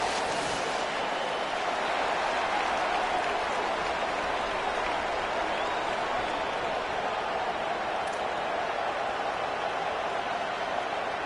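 Steady roar of a cheering football stadium crowd in a video game during the final two minutes of play, a dense continuous wash of noise with no voices standing out.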